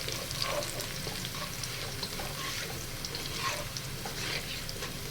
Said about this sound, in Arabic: بصوا تتكرمل بقى معاها ونسيح السكر مع البصل